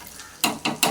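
Potatoes fry in a pan beside a drumstick sambar, a soft background sizzle broken by three quick, close scraping stirs in an irregular rhythm.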